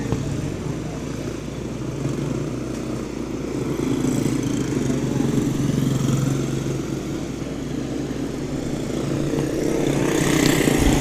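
Junior race cars, a five-car heat, rolling out onto a short speedway track at Little New Smyrna, several small engines droning and buzzing together at mid distance, swelling louder toward the end.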